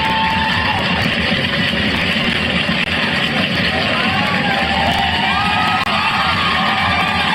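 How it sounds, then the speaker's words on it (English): A loud, dense crowd cheers and yells continuously from a played track, a steady roar of whoops with no clear gaps. "as like the crowd is getting louder"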